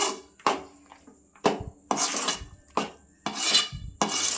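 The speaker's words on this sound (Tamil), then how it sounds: "ஆட் பண்ணி கிண்டி விடுங்க நல்லா." Kesari being stirred with ghee in a pan, heard as a run of separate scraping, rasping strokes of a spoon against the metal pan, coming in irregular bursts with short pauses between them.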